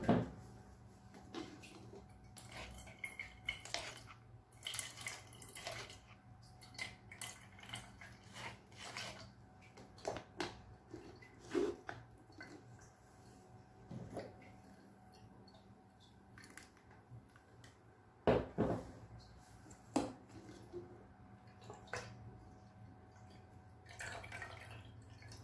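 Carrot juice drips from a strainer into a vessel in a kitchen, a faint, irregular series of small drops and light clinks over near silence.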